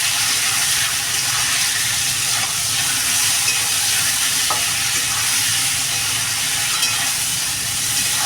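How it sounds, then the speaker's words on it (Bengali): Hilsa fish with potato and eggplant being mixed with salt in a pan: a loud, dense, continuous sizzle and bubbling fry with soft stirring scrapes underneath, close and steady, with no talking. "লবণ দিয়ে দেবো ভালো করে মিশিয়ে নেবো"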